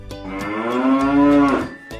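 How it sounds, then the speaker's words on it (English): A cow lets out a single long, loud moo, close and clear, rising then falling in pitch before cutting off, over a faint rhythmic tapping background. "Cow."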